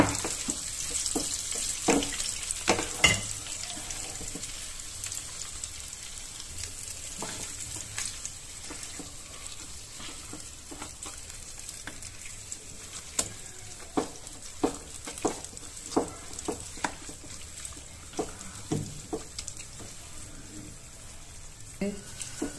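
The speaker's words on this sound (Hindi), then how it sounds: "शकरकंदी हमने डाल दी इसमें, फ्लेम को कर लेते हैं हम मीडियम आंच पे, इसको धीरे धीरे से इसके अंदर पकाना है" Sweet potato cooking in ghee over a medium flame, giving a steady soft sizzle broken by frequent sharp clicks and scrapes of stirring throughout.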